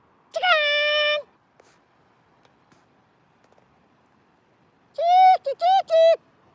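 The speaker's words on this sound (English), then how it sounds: "Oh, there's my cat." A house cat meows twice, first one long drawn-out cry, then a quick run of three or four shorter meows after a quiet pause, fairly close and clear.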